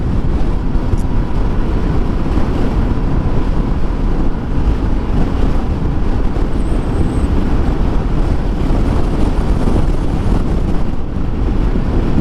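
Steady, loud wind buffeting and roaring across the microphone while riding a Royal Enfield Guerrilla 450 motorcycle, a continuous low rumble with no voices heard.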